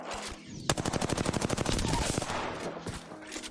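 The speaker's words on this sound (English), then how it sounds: "Opening fire on the enemy." Rapid automatic gunfire from a weapon in the video game Apex Legends, a close, loud, steady burst of about two seconds with a few scattered shots before and after.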